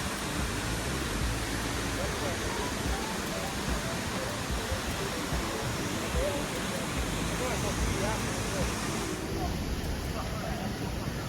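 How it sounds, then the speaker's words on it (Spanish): Water from an artificial geyser in a Norwegian city erupts under high pressure, making a steady, loud rushing and hissing spray like heavy rain that continues throughout. "No, no está lloviendo, es el agua del geyser."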